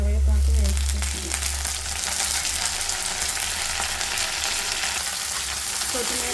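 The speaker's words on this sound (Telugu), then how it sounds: "లైట్ బ్రౌన్ కలర్ వచ్చేంత వరకు వేయించుకోవాలి" Onions with coriander and curry leaves frying in a pan give off a steady, loud sizzle with a low rumble at the start, continuing evenly with faint scraping as the mixture is stirred.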